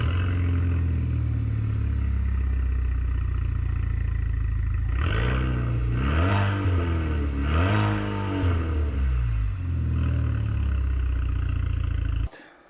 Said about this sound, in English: If you guys want to know what it sounds like with a muffler delete, we're going to start the car up right now so you can hear what it sounds like